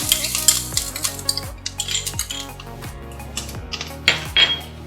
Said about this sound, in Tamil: இப்போ கடுகு பொரியுது.